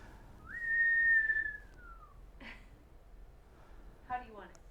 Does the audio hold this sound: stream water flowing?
no